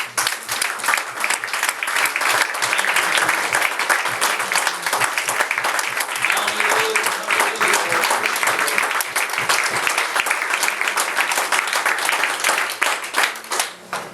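A church congregation claps their hands in sustained, dense applause that stays loud and steady throughout, with only faint voices mixed in beneath.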